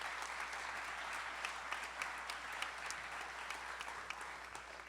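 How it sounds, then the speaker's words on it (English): Steady round of applause from an audience at a business presentation honoring entrepreneurs, dense and continuous clapping held at an even level for several seconds with a few sharper individual claps poking out. "Let's give them a round of applause."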